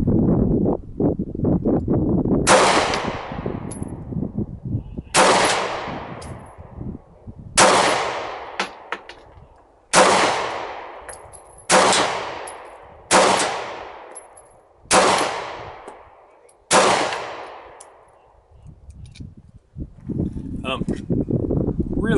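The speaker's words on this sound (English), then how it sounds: "Put a full mag in here, so I have 8 shots total." A Kel-Tec PF-9 pistol fires eight loud, sharp shots at a steady pace of roughly one every one to two seconds, each crack ringing out and decaying outdoors before the next.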